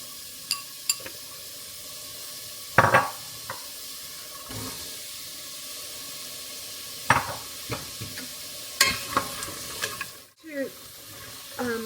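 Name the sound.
onion and carrot frying in a pot to soften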